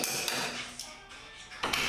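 Light hammer taps seat a seat brace part into place on an Exomotive Exocet, a few sharp metallic knocks spread across a short stretch with a quiet hum in between.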